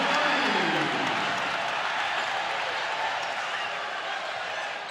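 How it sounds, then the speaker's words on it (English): A crowd at a high school basketball game between Vertical Academy and Coppell cheers after a three-pointer, a broad, loud roar that fades slowly over several seconds. "The crowd was excited for Eric Lampkin."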